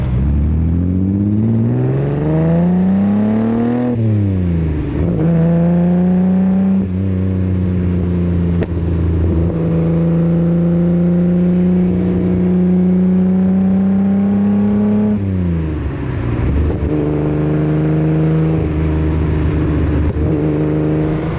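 A 1965 Ferrari 330 GT 2+2 engine heard from inside while driving, its loud smooth tone rising and falling through several gear changes before settling around 2,000 RPM.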